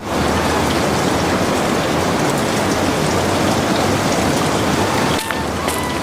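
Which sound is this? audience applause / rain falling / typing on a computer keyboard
rain falling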